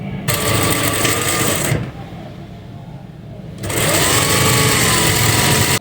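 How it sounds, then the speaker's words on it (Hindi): An electric sewing machine runs fast and loud, stitching the shoulder seam of a baby yoke frock. The motor whirs in a steady drone, pauses briefly in the middle, then resumes at full speed. "इस तरीके से हमने यहाँ की सिलाई लगानी है"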